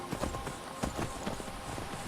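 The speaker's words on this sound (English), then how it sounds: "Try and not have the horse break its legs descending these slopes." A horse treads down wooded slopes in Skyrim, its hoofbeats a steady clip-clop under a continuous ambient game backdrop, moderately close and fairly quiet.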